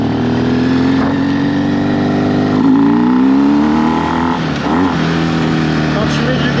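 Motorcycle engine on a memorial group ride, revving under throttle with rising and falling pitch sweeps, close and loud over steady wind noise; voices talk during it.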